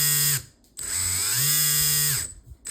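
A small electric motor running rough on a repair bench, giving a loud buzzing whine that dips, rises again and holds, cut off briefly in two places as it stops and restarts.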